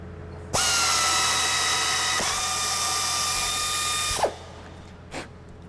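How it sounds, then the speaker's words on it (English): A flex arm tapper cuts 1/4-20 threads in scrap metal. Its motor whines at a steady pitch for about three and a half seconds, with a brief shift midway, then winds down, followed by a small click. "we'll stick it in the flex arm with a 1/4-20"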